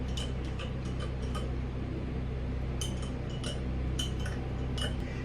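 A spoon stirs sweetened condensed milk into a cup of coffee, giving a run of light, irregular clinks and ticks against the cup over a steady low background hum.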